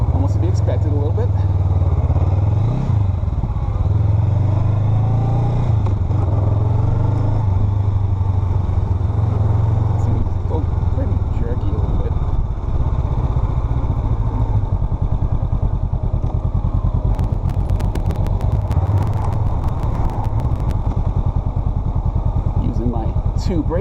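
A 2021 Honda Rebel 500 motorcycle on a first ride gives a loud, steady engine drone that rises and falls with throttle changes, with wind buffeting throughout and a rider talking over it.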